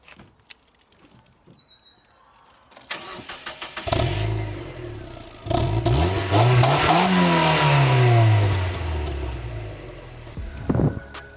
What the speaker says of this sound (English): let's see how it sounds